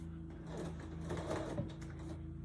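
Sewing machine running steadily while quilt pieces for a patriotic quilt are fed under the needle, a close, continuous mechanical hum with fine rapid stitching texture and no talk.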